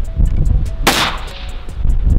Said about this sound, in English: Getting ready to shoot stage 18 off the Jeep,